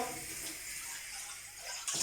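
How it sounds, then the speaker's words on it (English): Water running from a kitchen tap into a saucepan, a steady hiss and splash throughout with a brief change in tone near the end. "get a saucepan, like this, nice saucepan, fill it up with some water"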